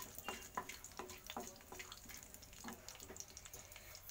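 Dried chilli, bay leaf and cumin crackle and sizzle in hot oil, a faint, steady spatter with scattered sharp pops throughout.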